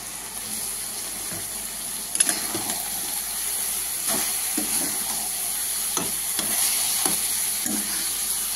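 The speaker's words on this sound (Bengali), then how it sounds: "এবার আমি সবজিটা দিয়ে দিচ্ছি।" Vegetables and chicken fry in a pan with a steady hissing sizzle, broken by regular scraping strokes of a spoon stirring, close and fairly loud, with no talking.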